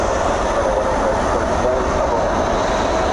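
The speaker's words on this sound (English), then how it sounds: "As the first of 2 UPS 757s begins to cross over runway 18 right." Two UPS Boeing 757 jets taxi across runway 18 right at Dallas Fort Worth airport at night, producing a steady, loud roar of jet engines that stays continuous and unbroken.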